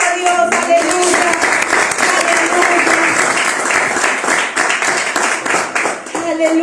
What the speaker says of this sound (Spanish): Dele fuerte aplauso a Dios